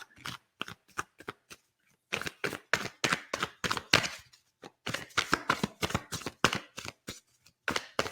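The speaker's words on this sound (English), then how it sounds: "A little ASMR card shuffling for you guys in between." Close, crisp card shuffling in bursts of rapid riffling clicks, with short quiet gaps between shuffles, no voices.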